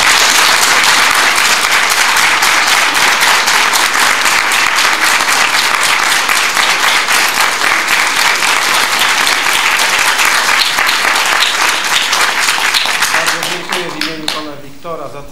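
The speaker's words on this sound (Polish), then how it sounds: "Brawa, bo należą mu się jak najbardziej" A concert-hall audience at a music school piano recital gives loud, sustained applause, a thick continuous roar of clapping that holds for most of the stretch before thinning out and fading near the end.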